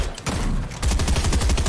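Rapid bursts of gunfire in the Fortnite video game, dense and loud, crackling in quick clusters that swell louder partway through.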